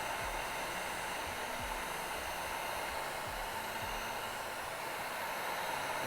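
A heat gun blowing hot air over a tattoo stencil on fake skin makes a steady, even rushing hiss, close and unbroken for the whole stretch with no talking.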